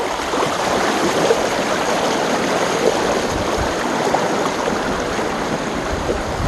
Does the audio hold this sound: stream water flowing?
yes